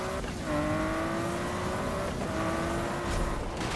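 A Nissan Skyline racing in Need for Speed (2015), its engine droning steadily at high revs with pitch shifts between gears, loud and continuous with faint tire noise underneath.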